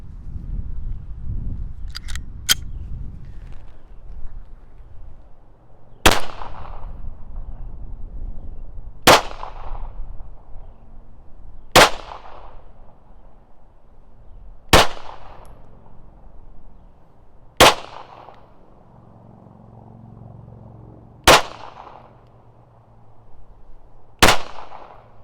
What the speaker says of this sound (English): then we'll load up the other magazine and shoot 10 rifle primer. Same thing, 10 shots